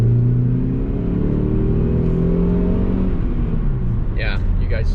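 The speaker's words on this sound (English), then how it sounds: "We're gonna give it some gas." A high-mileage Saab 9-5 fitted with new spark plugs revs up and settles back in a steady engine drone. It is heard close up, and a voice speaks briefly over it near the end.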